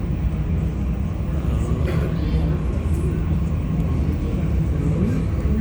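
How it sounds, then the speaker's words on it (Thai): Jet airliners taking off and landing at an airport produce a steady, distant engine roar that rumbles continuously without a break. "ทั้งแลนดิ้งทั้งเทคออฟมามาพร้อมกันเลย ตัวนึงขึ้น ตัวนึงลง"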